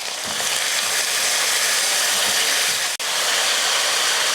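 Potato pieces go into a pan of sautéed onion and garlic for a South Indian potato fry, giving a loud, continuous hissing sizzle that briefly cuts out near the end before carrying on.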